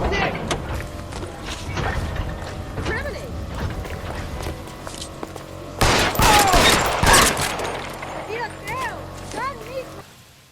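Gunfire in the video game L.A. Noire, with a long burst of rapid shots crackling loudly around the middle over a busy game soundtrack, and voices talking throughout.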